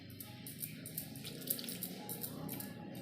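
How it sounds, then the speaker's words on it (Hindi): Water poured little by little into pakora batter in a home kitchen: a soft, continuous trickling splash with faint dribbles, quiet and steady, with no voices. "थोड़ा थोड़ा डालेंगे पानी,"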